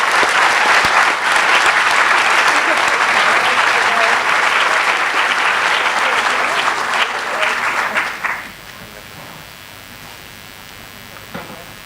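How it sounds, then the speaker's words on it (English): At a veterinary school white coat ceremony, a large audience claps loudly and steadily for about eight seconds, then the applause drops off abruptly to a quiet room. "Round of applause."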